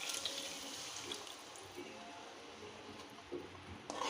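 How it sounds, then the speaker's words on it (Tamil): Tamarind water pours steadily into a pan for fish curry, a continuous close splashing trickle with a few brief clinks near the end. "இப்போ நம்ம கரைச்சி வச்சுருக்க புளியை ஊற்ற போகிறோம்."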